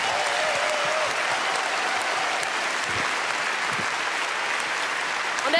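Loud, roaring applause from an award show audience at the Goldene Kamera Digital Award, a dense steady wall of clapping sustained throughout, with a brief swell at the very end.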